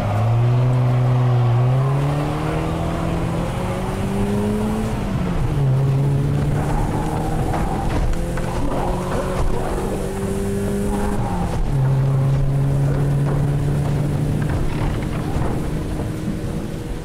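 A car engine revs hard and pulls away fast, its loud rising engine tone climbing and shifting through gears over steady road noise, close and continuous with no talking.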